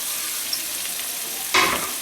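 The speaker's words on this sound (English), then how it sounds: "Once the ghee has melted, I'm going to add in the" Onions sizzling as they fry in melted ghee, a steady close crackling hiss with a brief louder burst of spitting partway through, and no talking.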